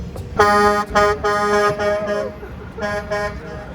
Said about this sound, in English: honk the horn for us